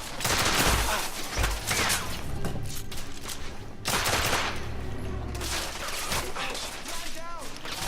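Shotgun blasts and rapid gunfire from The Order: 1886, a dense, loud barrage of shots and thuds throughout, with a couple of heavy booms standing out.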